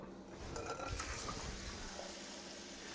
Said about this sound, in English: I always like to add cold water to our hard-boiled eggs